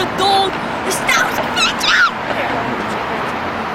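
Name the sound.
dog barking and whimpering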